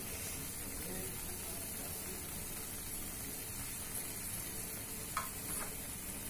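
A thick kandi pedha milk mixture is stirred and roasted in a pan, giving a steady soft sizzle with faint scraping throughout and one brief clink near the end.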